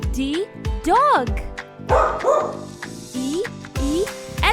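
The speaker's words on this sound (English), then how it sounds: "D, dog." A dog barks and yips repeatedly at close range, short sharp calls mixed with whiny rising cries over a light musical backing.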